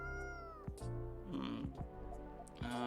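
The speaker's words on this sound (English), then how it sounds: "I don't think this is the coffee drinking sort of cat." Cat meowing in the video game Coffee Talk, several drawn-out meows repeating over steady background music, with a brief murmur from a person.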